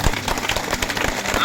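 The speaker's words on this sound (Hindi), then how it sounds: "परमेश्वर को ताली बजा के धन्यवाद करें।" A church congregation claps hands in thanks to God, a dense, even patter of many hands close by, with voices mixed in.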